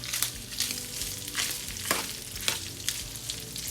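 A one-pound batch of ground pork sausage fries in a pan for Mexican cornbread, giving a steady close sizzle with scattered crackles and short stirring scrapes, no talking.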